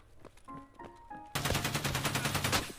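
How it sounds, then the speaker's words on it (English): Rapid automatic gunfire in the video game Escape From Tarkov starts abruptly midway and stays loud and dense, a fast rattling burst of shots after a quieter stretch of faint game sounds and scattered clicks. "Oh, they're shooting."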